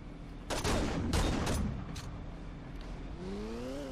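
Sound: gunfire in video game Saints Row 2

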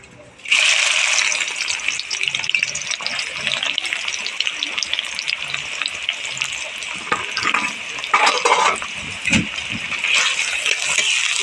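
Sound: onions frying in hot oil for mutton korma

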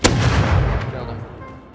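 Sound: gunshots in video game Rust

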